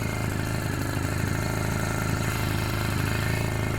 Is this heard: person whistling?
no